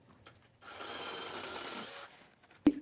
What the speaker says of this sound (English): We're going to cut this branch of this tree.